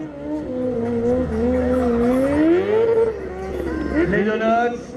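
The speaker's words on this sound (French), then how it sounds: "Les donuts à gauche, les donuts à droite." A stunt motorcycle spins donuts at a drag power show, its engine revving and wavering up and down over squealing tires as an announcer talks over it, close and continuous.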